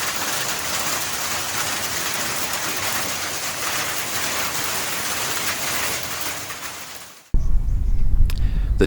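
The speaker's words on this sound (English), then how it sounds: "first day of summer. We're greeted with a hailstorm" Small hail falls in a hailstorm on the first day of summer, a dense continuous hiss and patter that fades out near the end before a louder rumbling sound cuts in.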